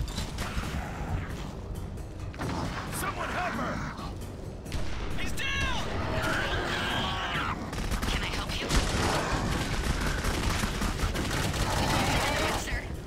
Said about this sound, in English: That was a delayed explosion.